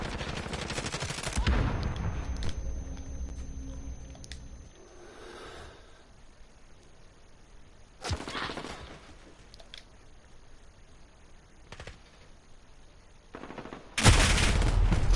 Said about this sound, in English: I swear to God, I'll shoot my teammate now.